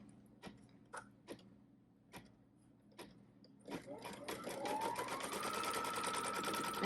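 An embroidery sewing machine stitching quilting on a pieced quilt block, starting with a few separate ticks then building into a fast, steady close mechanical whirr.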